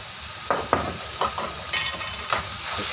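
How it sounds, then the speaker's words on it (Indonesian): Long beans and beef being stirred in a frying pan, a steady sizzle broken by several scraping stir strokes, close and clear with no talking. "Kita aduk-aduk dulu."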